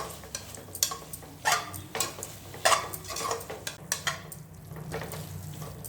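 Mint and vegetables sautéed in oil for egg biryani cooked in a pressure cooker sizzle softly beneath repeated scraping stirs, each stroke a short rasping burst in an irregular rhythm.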